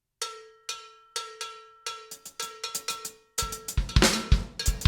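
Drum kit played with independent limb patterns, sharp bell-like metallic strikes in an uneven rhythm that thickens into a dense, clattering burst of cymbals and drums near the end, close and loud.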